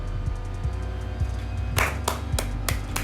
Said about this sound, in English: All I have to do is clap hands